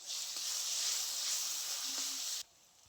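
Garlic paste hits hot oil with fried onions, cardamom, cloves and cinnamon in a Bengali curry pan, giving a loud, steady sizzle that holds for over two seconds and then cuts off sharply.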